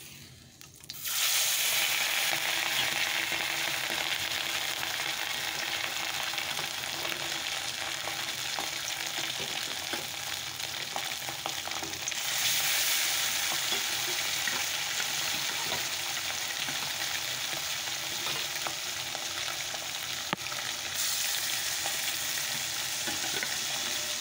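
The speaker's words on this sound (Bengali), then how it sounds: "তো চলো এবার মাছগুলোকে ভেজে নিই" Fish fry in hot oil in a wok, a steady loud sizzle lasting throughout with slight shifts in intensity and occasional stirring, no voices.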